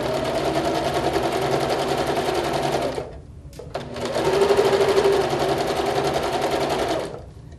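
A sewing machine runs in a fast, steady, close drone while stitching a quilt corner, stopping for about a second midway before resuming at the same pace and cutting off near the end.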